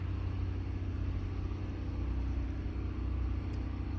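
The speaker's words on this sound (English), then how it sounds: "you can probably hear the tractor in the background." A steady low tractor engine rumble drones continuously in the background at a marina, fairly faint and unchanging, as the tractor moves a boat.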